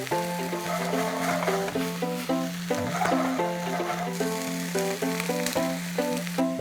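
Food sizzles as it is stir-fried with Worcestershire sauce in a pan, a steady loud hiss under background music, with spatula scrapes and stirring noises throughout, no voices.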